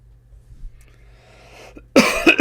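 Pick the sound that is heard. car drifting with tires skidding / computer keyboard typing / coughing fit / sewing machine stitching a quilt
coughing fit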